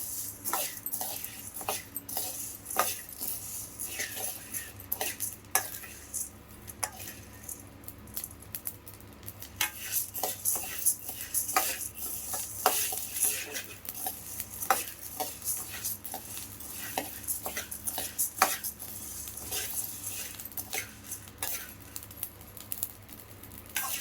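Whole spices for sambar powder dry-frying in a pan while a metal spoon stirs and scrapes them, giving repeated clinks and rattles over a soft sizzle, close and fairly quiet, with no talking.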